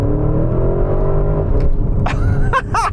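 Porsche Cayenne Turbo GT SUV engine droning loudly at steady high revs, pitch rising slightly, then easing off before short bursts of whining acceleration near the end.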